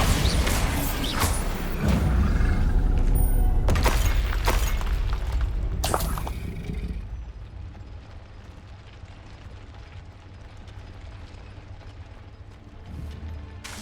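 Bombarda explosion spell in the Hogwarts Legacy video game, several loud booming blasts with crashing debris packed into the first seven seconds of a busy fight, then fading into quieter ambience.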